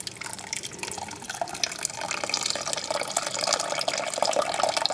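Water drains and drips from fresh mozzarella cheese held in cheesecloth, a close, steady trickle with fine drips that grows slightly louder, and no voices.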